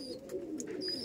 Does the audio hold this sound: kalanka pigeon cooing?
yes